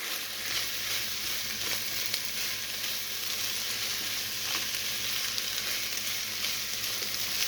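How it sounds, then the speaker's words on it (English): A vegetable sauté mix sizzles steadily in a pan, a dense, even hiss running throughout with only faint stirring touches and no voices. "I'm just gonna give that a stir"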